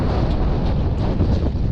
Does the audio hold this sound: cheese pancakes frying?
no